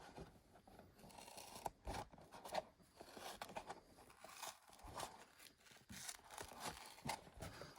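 Scissors cut a circle out of a homemade deck box built from household materials, a quiet continuous crunchy snipping and rasping close by with no talk.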